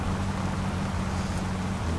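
Rain falling in the video game My Summer Car, a steady wash of noise mixed with a low engine-like rumble, constant and even throughout.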